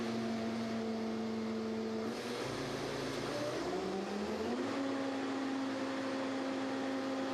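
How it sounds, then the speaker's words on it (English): A 2005 New Holland HW windrower engine runs steadily and loudly, its pitch rising as speed is increased to high idle, with a continuous drone and no talking. "Start the engine and increase speed to high idle."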